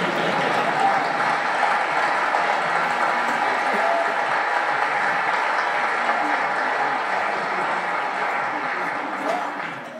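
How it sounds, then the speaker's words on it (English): Sustained, dense applause from a large audience at an evening of learning honouring a rabbi in Melbourne, a steady broadband roar of clapping that holds loud for the full ten seconds before easing slightly at the end. "Where's the applause?"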